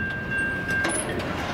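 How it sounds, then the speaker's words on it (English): A Norfolk Southern freight train, an empty grain train, rolls west over fresh ballast, heard as a brief, steady rumble with a thin high whine running through it. "N41N, head west, kicking up some ballast."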